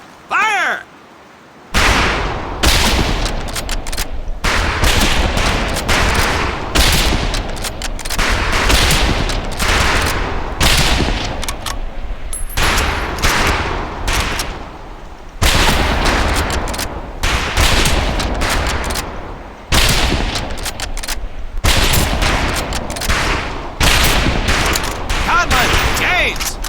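Volleys of rifle fire at targets on a range in the Medal of Honor Pacific Assault video game, loud and dense, with overlapping shots in long sustained bursts and brief pauses between them.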